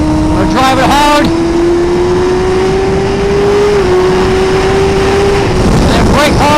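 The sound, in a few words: Suzuki GSX-R1000R motorcycle accelerating hard in third gear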